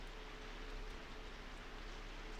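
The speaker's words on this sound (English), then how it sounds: "It was probably the sounds of the rain, wind and thunder mixing together" Steady hiss of rain in the horror video game Corpse Party: Book of Shadows, a constant faint wash of falling rain with no talking.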